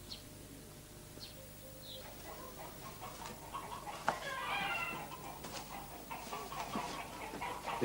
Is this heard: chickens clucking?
yes